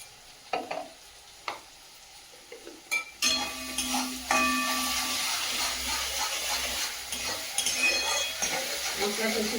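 Chili powder and spices frying in a pan, a sharp sizzle that bursts in after a few scattered clinks and then keeps hissing steadily with stirring and scraping, while a voice talks faintly.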